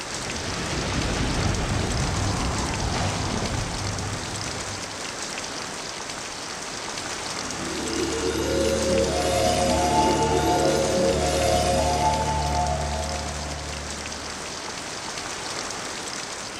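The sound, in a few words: steady drizzling rain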